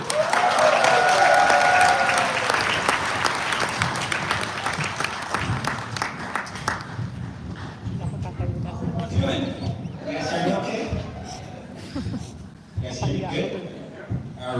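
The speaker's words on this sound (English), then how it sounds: "I want to give him a big, big round of applause" An audience applauding as a speaker is welcomed to the stage at a business event, loud dense clapping that fades after about seven seconds into scattered claps, cheers and talking.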